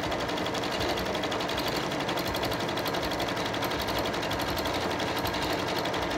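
A sewing machine stitches small free-motion circles on fabric, running continuously with a fast, even mechanical whir and needle patter, close and steady throughout.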